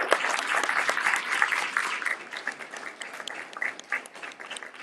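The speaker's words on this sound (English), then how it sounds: "Round of applause for everyone." A room full of people clapping at a Rotary Club meeting in Tucson, dense at first and then thinning into scattered claps as it fades; fairly close and lively.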